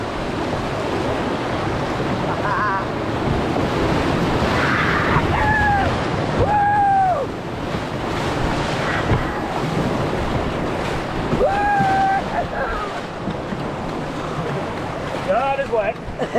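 Canoe running a river rapids chute on a paddling trip near Fergus and Elora, with steady loud rushing whitewater and splashing throughout, voices calling out over the roar.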